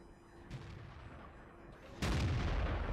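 A Super Pershing tank's gun fires once in World of Tanks, a sharp loud boom with a rumbling tail that follows a quieter stretch of engine and ambient game noise.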